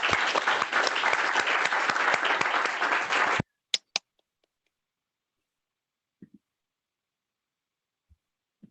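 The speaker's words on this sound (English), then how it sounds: "Let's clap for her." Lecture audience applauding for about three and a half seconds, a dense steady clatter of many hands that cuts off abruptly, followed by a few isolated faint clicks and knocks in near silence.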